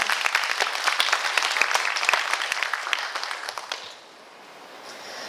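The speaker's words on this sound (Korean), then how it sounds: "다시 한번 큰 박수 부탁드립니다" An audience at a regional government briefing in a county arts hall applauds loudly with crisp, dense clapping that fades out after about four seconds, leaving quiet room tone.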